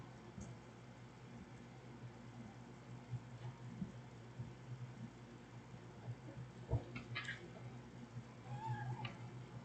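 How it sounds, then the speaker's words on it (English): A pet cat meows for its dinner in a few short, fairly faint calls scattered over a quiet, hissy background, with a couple of sharper cries near the end. "My cat. It's not time for dinner yet, so stop asking."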